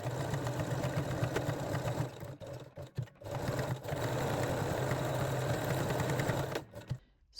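A sewing machine runs a zigzag stitch along lingerie fabric, a close steady whirring hum with a rapid mechanical beat, pausing briefly twice and stopping near the end.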